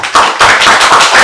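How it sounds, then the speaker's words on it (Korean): Audience applause welcoming Professor Kim Jae-jin to the stage for a lecture, with several loud bursts of clapping close and crowded, no talk over it. "박수로 환영해 주시기 바랍니다"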